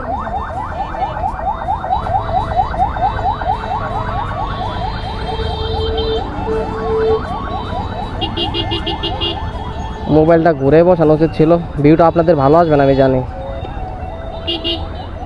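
A police car siren wails along a near-empty road during Eid, heard from a moving motorbike, its rising and falling tones loud and steady under wind and road noise while someone talks over it.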